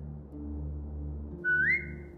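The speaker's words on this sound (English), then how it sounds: "Now whistle and tell her to lie down." In The Walking Dead video game, a single short rising whistle to a dog sounds clearly over a low steady ambient drone, brief and close.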